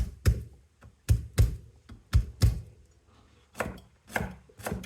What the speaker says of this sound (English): put your knife over it, smash it down, slice it, then into the pan.